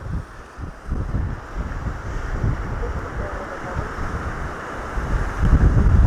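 Gusty wind roars and buffets the microphone on a small pier at a Lake Winnipeg beach in Manitoba, steady and loud and swelling stronger toward the end.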